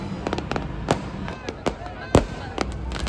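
Fireworks burst and crackle at New Year midnight in Kovalam, with sharp irregular bangs of varying loudness, some near and some farther off, over a background of crowd noise.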